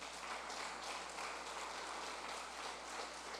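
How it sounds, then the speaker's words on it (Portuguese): A church congregation applauds in a steady, dense wash of clapping that holds evenly throughout, fairly faint and distant with no voices over it. "As palmas para o Senhor."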